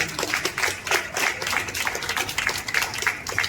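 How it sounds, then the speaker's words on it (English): Audience applause for achievers at a certificate ceremony, a steady dense round of clapping from many hands, fairly loud and close, with no talk over it. "Let us applaud our achievers once again for the outstanding accomplishment."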